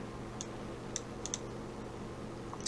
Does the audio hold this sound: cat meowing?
no